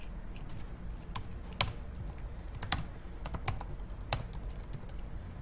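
Someone types code on a computer keyboard: a quick, uneven run of light key clicks with a few sharper taps, close and fairly quiet, with no talking.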